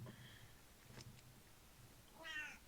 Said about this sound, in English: I'm sorry if you can hear my cat. He's hungry.